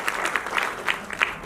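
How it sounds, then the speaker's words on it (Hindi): An audience at a Hindi Diwas awards ceremony and poetry gathering claps, with scattered, distinct hand claps standing out over a softer background patter of applause. "छात्र छात्राओं के नाम एक बार जोरदार तालियां हम चाहेंगे आप सभी बजाएं"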